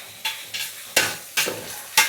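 A spoon stirs tomato into a sizzling prawn biryani masala in a pan, with five distinct scraping strokes at an even rhythm over a soft frying hiss.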